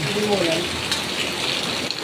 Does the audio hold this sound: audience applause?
no